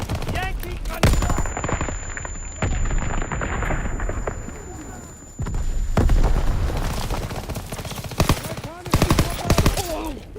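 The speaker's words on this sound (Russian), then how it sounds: "Артиллерия стреляет по берегу!" Artillery pounds a shoreline in Call of Duty WW2 amid heavy machine-gun bursts and booming explosions, a loud, dense barrage with distant shouting voices mixed in.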